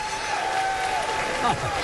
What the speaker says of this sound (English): you got a nice round of applause